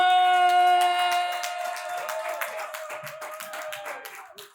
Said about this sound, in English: get the round of applause going